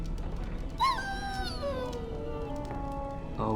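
A dog whimpers and whines in the Dragon Age video game, a thin wavering cry that rises, then slides downward over a couple of seconds and trails off against a steady low game ambience.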